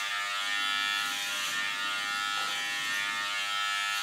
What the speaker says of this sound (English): My clipper is of Kione.